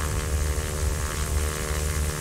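Propeller airplane engine in a flight simulator game, a steady droning hum with a constant low rumble and no pauses.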